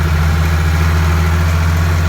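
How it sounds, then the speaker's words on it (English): A turbocharged 986 tractor engine idles steadily up close, a loud, constant low rumble with an even drone and no changes in pace, nobody speaking over it. "this needs to sit here and run a little bit before I go pedal to the metal out on the highway"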